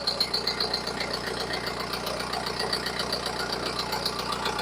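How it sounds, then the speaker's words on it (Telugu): A Skoda Octavia engine idles steadily up close, a continuous low rumble with a faint rhythmic ticking, no vibration and no voices. "వెహికల్ కూడా స్టార్ట్ అయిపోయింది మనకు ఎటువంటి వైబ్రేషన్స్ లేవు"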